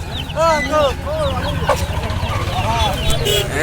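Chickens and roosters cluck and squawk repeatedly nearby amid a noisy crowd at a poultry market in Manikchhari, with people talking in the background.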